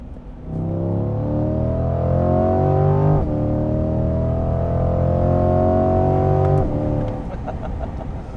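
A 2021 Chevrolet Corvette C8 Stingray engine revs loudly and close by, with a steady rising drone, a brief drop and a second climb before it eases off.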